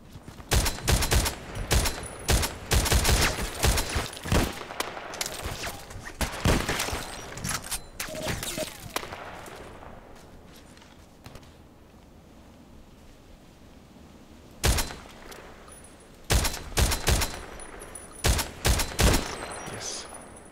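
Rapid bursts of gunfire from an SVD-S sniper rifle in a video game crack loudly in clusters, then fall into a quieter windy lull before more sharp shots return near the end.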